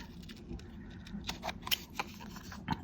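Non-stick scissors making a few quiet, close snips through paper or cardstock, scattered short crisp clicks over a faint background, with no talking.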